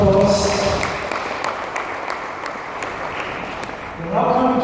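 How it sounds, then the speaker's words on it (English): Conference audience applause after a talk in a disaster-management session on geospatial issues, a steady moderate clapping wash, with voices speaking at the start and again at the end. "One more applause."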